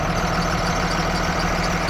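Cummins ISB 6.7 liter turbo diesel engine of a 2010 Blue Bird Vision school bus idling, a steady low throbbing drone heard close and alone.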